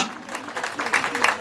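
Scattered applause from attendees at an outdoor ceremony in Kongofon, Brofodoumé, honoring a speaker; a short burst of clapping that builds slightly over mixed background voices.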